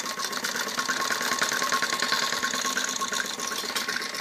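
Sewing machine stitching the curved back neckline of a kameez, running in a steady continuous whir with close, even loudness throughout.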